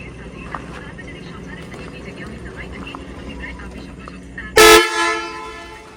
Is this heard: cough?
no